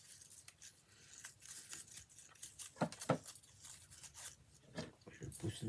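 Scissors are handled during a paper embellishment craft project, giving faint, scattered metallic clicks and scrapes against a soft background while someone speaks quietly.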